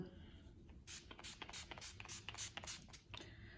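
A series of quick, soft hissing spritzes from a glittery face mist spray bottle, several bursts in an uneven rhythm, faint and close.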